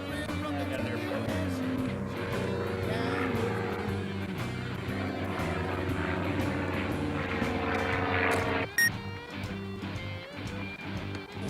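A propeller airplane near an airport, a steady droning engine hum held loud and fairly close for several seconds before a sharp clunk and a quieter tail, with faint voices in the background.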